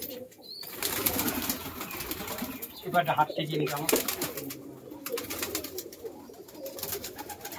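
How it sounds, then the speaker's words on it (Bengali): Quality fancy pigeons in a small loft cage coo and flutter as a man catches them, with scattered bursts of wing flapping and cooing beneath near, continuous talk. "কাকা পায়রা ধরছে দেখুন।"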